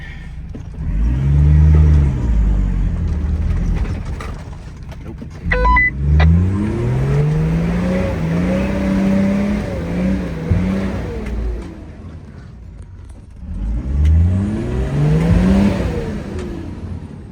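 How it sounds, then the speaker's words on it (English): A car engine revs hard in repeated rising surges while a rear tyre slips in a rut on a firewood-gathering trip. The engine is close and loud, and a brief voice speaks between the surges. "it was the rear tyre slipping on the rut"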